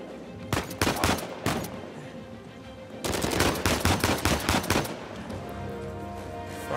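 Rapid automatic gunfire from the video game Uncharted 4 crackles in two dense bursts, the second longer and more sustained, loud and close with brief lulls between volleys.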